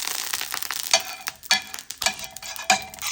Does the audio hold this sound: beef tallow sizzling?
yes